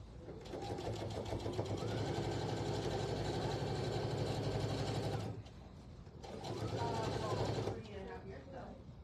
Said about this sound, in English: now I'm going to sew these two blocks together